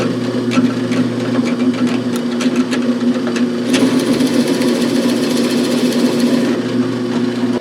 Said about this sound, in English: just drill your first hole as deep as the hanger